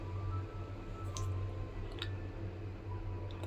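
Minced mutton kebab mixture with red chilli powder, chopped coriander and gram flour is mixed by hand, giving soft, wet squishing with a few small clicks over a low hum.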